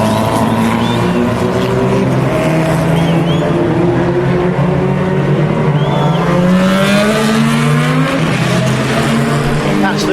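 Judd-engined Lotus Lola race car on a circuit, a loud, continuous engine roar with rising and falling revs, heard up close, with what seems to be a commentator talking over it.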